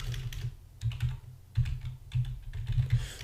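Computer keyboard typing in quick irregular bursts of key clicks, close and fairly quiet, with brief pauses between runs while someone enters text into a web form.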